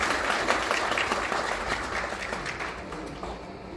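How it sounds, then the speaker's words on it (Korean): Steady applause from an audience at a Democratic Party public lecture on the Daejeon–Chungnam special city merger, dense clapping filling the room and slowly tapering toward the end. "다시 한번 큰 박수 부탁드리겠습니다"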